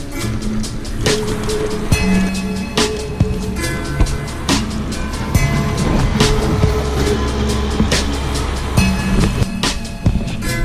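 A car drives along an unsealed gravel road in the Australian outback, giving a steady loud rumble of tyres and engine with scattered crunches and knocks throughout.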